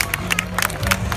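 A crowd applauds a hot air balloon pilot at an outdoor balloon event, with scattered clapping and a low murmur of voices, fairly near and continuous for a moment.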